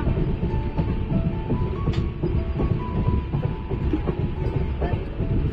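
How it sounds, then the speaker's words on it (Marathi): A Ratnagiri passenger train on the Konkan line pulls into a station in light rain, a steady rolling rumble punctuated by regular wheel clicks over rail joints and faint thin brake squeals. "स्टेशनमध्ये आगमन झालेलं आहे ट्रेनचं"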